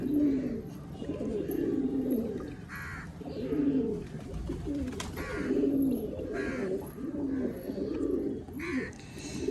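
Pigeons coo repeatedly in low, throaty bursts, close by, with a few soft chirps and faint rustling in between, as water is set out for them after vaccination.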